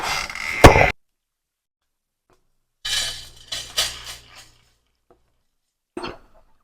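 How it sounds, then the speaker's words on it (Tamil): Dry-roasted spices tipped from a pan onto a plate in a home kitchen, a brief rattling pour at the start, then a few louder scrapes and clinks in a cluster, and one last short tap near the end. "ஒரு பிளேட்ல கொட்டிக்கலாம்."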